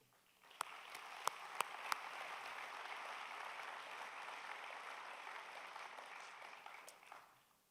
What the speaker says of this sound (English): Please join me in thanking them for their service.